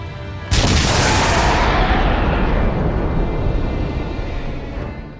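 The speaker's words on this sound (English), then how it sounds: "Loading up another gargantuan shell to fire at not much of anything." A gargantuan artillery gun in the video game The Darkness fires a shell, one huge sudden blast that rolls into a long, loud rumbling decay over several seconds.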